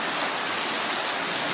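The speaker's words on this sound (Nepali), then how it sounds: "यो छड्के छड्के पानी परिरहेको छ" Heavy slanting rain pours down steadily in Bhojpur, Nepal, a dense, loud, even hiss close by with no pauses and no voices.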